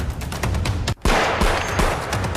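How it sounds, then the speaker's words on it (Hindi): Royal Enfield Bullet motorcycle with a modified silencer popping out loud firecracker-like backfires: a rapid crackling burst of bangs, a brief cutout, then another dense volley of sharp reports up close. "शरारती तत्व लोग बुलेट इस तरह की बाइक्स के साइलेंसर में से पटाखों वाली आवाज निकालकर लोगों को डराते हैं"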